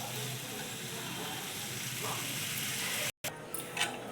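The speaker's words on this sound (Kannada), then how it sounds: "ಈರುಳ್ಳಿ, ಬೆಳ್ಳುಳ್ಳಿ ಮತ್ತು ಟೊಮೆಟೊ 1-2 ಸ್ಪೂನ್ ಎಣ್ಣೆ ಹಾಕಿ ಚೆನ್ನಾಗಿ ಸ್ಮ್ಯಾಶ್ ಆಗೋ ಥರ ಬೇಯಿಸ್ಕೊತಾ ಇದ್ದೀನಿ" Onion, garlic and tomato frying in a spoon or two of oil, giving a steady close broadband sizzle that runs unbroken, then a sudden brief dropout followed by quieter sizzling with a faint clink.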